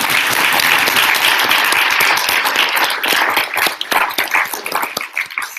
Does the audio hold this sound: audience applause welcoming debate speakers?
yes